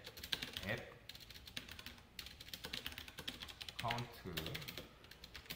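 A computer keyboard clatters in quick bursts as React code is typed, close and clear, with a voice speaking briefly between the runs of keystrokes.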